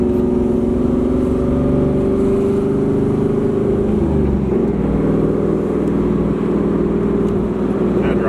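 Engine of a Chevrolet F-body car over 20 years old, running steadily at high RPM with a sustained loud drone and a slight pitch shift midway, heard from inside the cabin.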